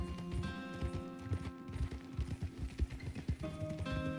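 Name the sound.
horse hooves while riding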